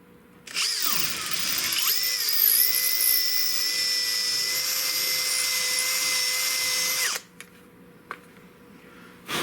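A reamer bores out a hole in a part of a .410 garden gun, a loud steady high-pitched whine running for several seconds before stopping abruptly, with a couple of faint clicks afterward.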